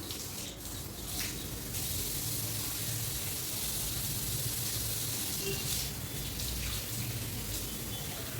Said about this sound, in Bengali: সাথে সাথে আমি কিন্তু চুলটা ভালো করে ধুয়ে নিলাম